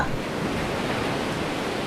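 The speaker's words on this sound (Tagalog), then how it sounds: "Sa saliw naman ng hampas ng alon ng dagat" Sea waves crash and wash against the shore as a sound effect in a Filipino audio story, a continuous dense roar of surf with no individual breaks standing out and no voices over it.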